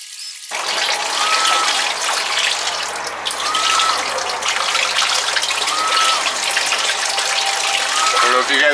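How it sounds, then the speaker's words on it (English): Water pump running in a DIY greenhouse heater, moving water in a loud continuous gush and splash that starts abruptly and carries on steadily, with faint bird calls in the background. "I can hear the pump. Oh man, we've got water already."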